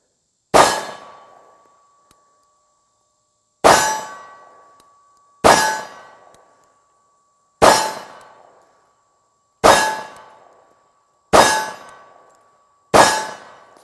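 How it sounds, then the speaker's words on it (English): Seven shots from a Ruger 1911 pistol firing Winchester white box 230 grain ball ammunition, each a sharp, loud crack with a ringing decay, spaced irregularly about one to three seconds apart, with no talking. "we'll shoot 7 rounds of the Winchester white box 230 grain ball ammo"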